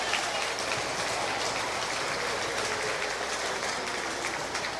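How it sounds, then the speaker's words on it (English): Steady, continuous clapping from a large crowd at a swine show, a dense patter of many hands with no pauses and no voices standing out. "give them a round of applause"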